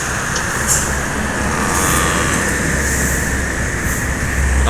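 A tour group bus rolling past at a bus pool, a steady broadband engine and road rumble with faint air-brake hisses, continuous and fairly loud, with no voices.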